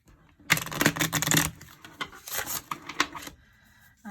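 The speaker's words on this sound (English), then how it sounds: "While I'm shuffling" An oracle card deck being shuffled by hand, giving dense papery riffles and flicks in bursts, loudest in the first second then softer intermittent shuffles, close and alone.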